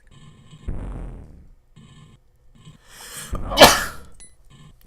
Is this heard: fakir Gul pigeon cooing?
no